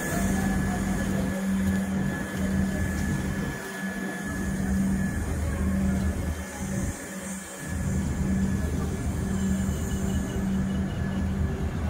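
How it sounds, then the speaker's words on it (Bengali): Sairang–Kolkata Express departing Badarpur station, a loud continuous rumble of rolling rail cars with brief dips, close by and with no talk. "তো ট্রেন ছেড়ে দিয়েছে, এবার চলে যাবে কলকাতার উদ্দেশ্যে।"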